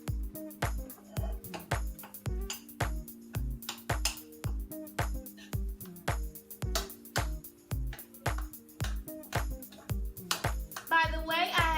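A utensil stirs cilantro, honey and cheddar together in a bowl, knocking the sides in fast, steady, ringing clinks that keep up the whole time, with a short bit of voice near the end.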